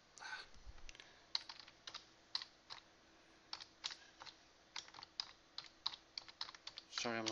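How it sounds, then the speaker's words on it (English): Typing on a computer keyboard, a run of quick, light key clicks in uneven bursts with short pauses between, close by and fairly quiet, ending in a brief flurry of faster taps. "I'm not talking, I'm typing."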